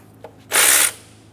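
A tool whirs briefly on power steering pump nuts with a 12mm socket on a 1994-1997 Honda Accord 2.2L four-cylinder, one loud half-second burst after a faint click, close to the work.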